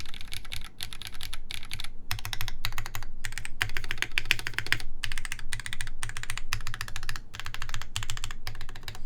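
Steady mechanical keyboard typing on a Sperno59 prototype build, with rapid clustered keystrokes in bursts and short pauses, close and fairly loud, no voices.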